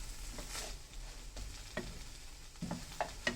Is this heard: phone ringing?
no